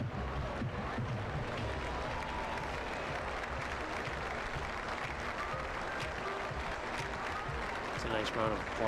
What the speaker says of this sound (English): Nice round of applause here.